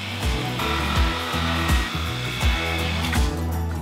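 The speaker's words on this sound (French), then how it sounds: "Je commence par sortir la scie sauteuse pour découper quelques planches." A jigsaw buzzes steadily through wooden planks, its pitch dipping in a rhythmic pattern as the blade cuts, close and fairly loud with no talking.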